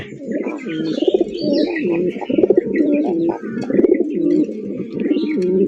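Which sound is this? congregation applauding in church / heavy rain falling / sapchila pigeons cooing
sapchila pigeons cooing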